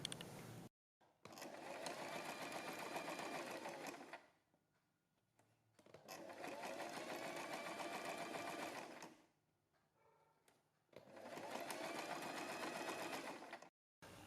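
A sewing machine stitches a printed kurti neckline in three steady runs of several seconds each, separated by short quiet pauses, heard close up with no talking.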